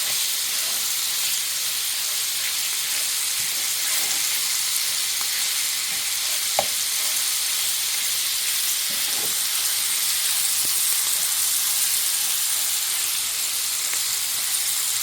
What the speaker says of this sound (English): meat is in the pan. We're just going to break this up, right? And we're just cooking this down like anything else.